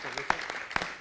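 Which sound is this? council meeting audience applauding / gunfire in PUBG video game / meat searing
council meeting audience applauding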